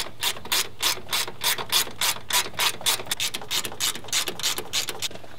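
An 8mm hand ratchet clicks in quick, rhythmic bursts while removing radiator parts such as the fan shroud on a vehicle. The crisp, close pawl clicks repeat steadily with no speech.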